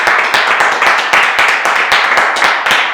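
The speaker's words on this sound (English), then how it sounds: "Should we give her a round of applause, ladies and gentlemen?" A small audience claps through a round of applause, a steady patter of hand claps throughout, fairly close and loud, with no talk over it.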